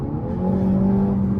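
A Hyundai Elantra N engine with an aftermarket XForce downpipe drones loudly and steadily with a deep, raspy exhaust note, holding a constant rumble throughout.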